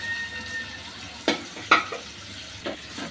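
Boneless beef and ghee sauté in a pan with a soft, steady sizzle, broken by three distinct stirring scrapes of a spoon, close and moderately loud.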